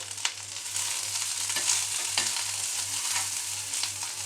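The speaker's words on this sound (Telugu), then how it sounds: "ఒక 2 స్పూన్ల ఆయిల్ వేసుకొని ఇందులో ఉల్లిపాయలు, అల్లం, తెల్లగడ్డ, ఎండుమిర్చి అన్నీ వేసుకొని బాగా కొద్దిగా ఫ్రై చేసుకోవాలి" Onions, ginger, garlic and dried red chillies fry in about two spoons of oil for a village tiffin-centre style tomato peanut chutney, a steady close sizzle with occasional stirring scrapes and a low background hum.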